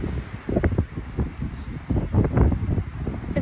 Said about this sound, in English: It's very windy, but that's okay.